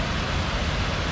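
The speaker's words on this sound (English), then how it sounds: "here's the bottom of the dam today with the rain coming in." Steady rain falling outdoors at the bottom of a lake dam, a dense, even wash of noise throughout with no talk.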